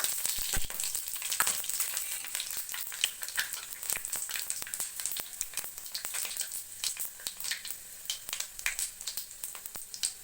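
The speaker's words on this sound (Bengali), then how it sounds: "আমি একটু পাঁচফোড়ন দিয়ে দেবো।" Panch phoron spices crackle in hot mustard oil, a dense close sizzle with rapid sharp pops throughout and no voices.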